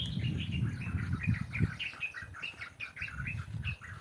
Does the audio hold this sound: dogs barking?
no